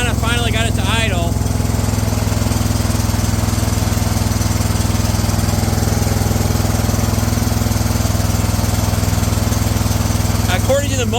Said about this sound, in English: Well, I kind of finally got it to idle.